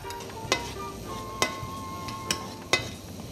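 Chopped garlic sizzles in olive oil in a pan while making seafood sambal linguine with clams. A soft, steady sizzle runs throughout, broken by a few sharp clacks of stirring.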